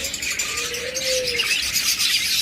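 A single soft, drawn-out coo from a bird rises over a steady bright hiss of background noise.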